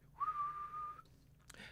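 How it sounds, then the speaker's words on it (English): A single clear whistle, a steady high note held for about a second, quiet and close, followed by a soft click. "A whistle."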